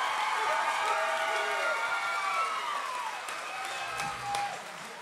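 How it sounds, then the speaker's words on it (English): A crowd at a combat-sports fight night applauds and cheers for the winner after a first-round technical knockout, a steady wash of clapping and crowd noise that thins slightly toward the end, with a voice faintly underneath. "how about a round of applause to your winner, Lucas Montoya"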